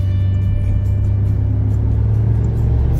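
A 2018 Toyota Hilux 2.8 overtakes on an open road, its engine a steady low drone and rumble inside the cabin, with constant road noise and no speech.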